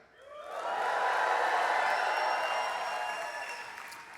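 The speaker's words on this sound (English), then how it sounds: "If so, let me hear a big cheer." A graduation convocation audience bursts into cheering and applause, swelling quickly into a broad, sustained roar of clapping and whoops that fades slightly toward the end.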